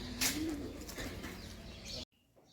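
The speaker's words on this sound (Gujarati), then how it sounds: "કબૂતર બોલી રહ્યા છે." Soft cooing of pigeons over a steady outdoor hum, a few low repeated calls, then the sound cuts off abruptly to near quiet.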